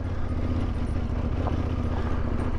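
A Yamaha Tenere 700 (T7) motorcycle engine chugs steadily uphill in low gear on an evening ride in South West Scotland, a deep, even rumble heard up close from the rider's position, with no voices.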